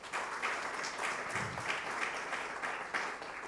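Church members in a chapel give a round of applause for a volunteer being introduced, a rippling, uneven burst of many hands clapping at moderate volume, with no speech over it.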